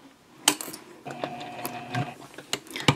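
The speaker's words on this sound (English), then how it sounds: "I'm actually going to take one more stitch." A sewing machine takes a few brief, whirring stitches on a project bag, with clicks and mechanical clatter between short bursts, close and fairly quiet.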